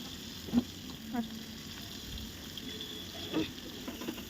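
Chopped tomato with salt fries in a pan with a low steady sizzle, a few soft scrapes and taps of stirring rising briefly above it, close by and alone.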